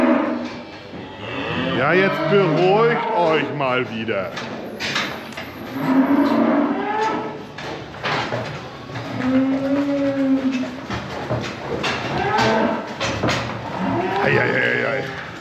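Dairy cows in a barn waiting to be milked by a milking robot, with several loud, close moos one after another, some long and drawn out. A person talks between the calls.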